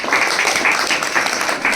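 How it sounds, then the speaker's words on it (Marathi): Applause from a group of children at a Brahma Kumaris children's values camp, a loud, continuous burst of clapping close by with no talk over it. "त्याच्यासाठी जोरदार टाळ्या वाजवा."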